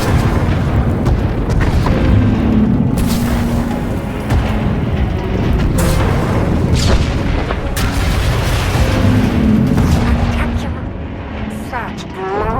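Weapon fire and heavy explosions boom through a Star Wars video game battle, loud rolling blasts and crackling bursts layered continuously with voices speaking over the chaos.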